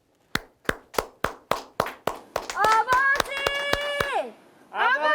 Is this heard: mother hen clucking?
no